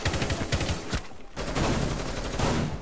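Rapid, loud bursts of gunfire from a shotgun during a Terrorist Hunt match in a video game, with several close, punchy blasts packed together in a short, chaotic volley.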